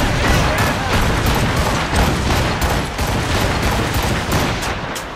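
Volley of ship cannon fire in Assassin's Creed Rogue, a dense run of booming shots layered over each other, loud and continuous amid battle noise with voices partly under it.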